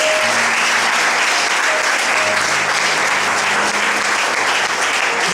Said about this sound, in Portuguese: Vamos aplaudir Jesus pela vida dos queridos.